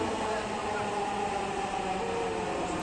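A Dhaka metro train pulling into a station, a steady broad rumbling roar with a sustained whine, loud and continuous throughout the short moment.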